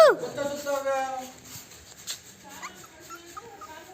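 A puppy whimpers in a thin, high, wavering whine that is loudest in the opening second, then trails into softer, intermittent whines close by, with people talking quietly in the background.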